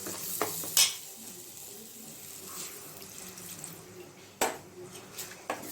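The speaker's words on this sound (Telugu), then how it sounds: "జస్ట్ ఒక వాటర్ టీ కప్ వాటర్ వేసి బాగా మిక్స్ చేయండి" Fish curry masala being stirred in a pan after water is poured in, a low simmering bubble with sharp spoon knocks and scrapes against the metal, close by, with no voices.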